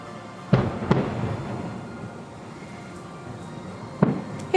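Magic Kingdom fireworks burst far away, with a few dull booms spaced over a few seconds above a low ambient rumble.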